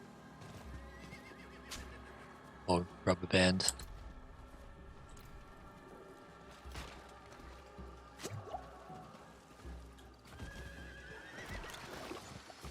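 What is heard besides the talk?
horse riding in video game Diablo 4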